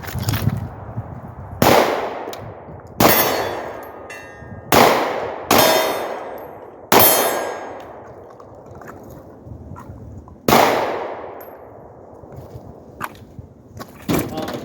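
Sharp pistol shots from a Glock 43 fitted with a Holosun red-dot sight ring off steel targets, with about seven loud cracks spaced irregularly, each followed by a ringing metallic decay.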